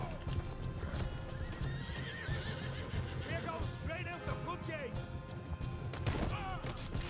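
In Red Dead Redemption 2, a horse gallops with steady clip-clop hoofbeats and repeatedly neighs and whinnies, loud and close, while someone talks over it.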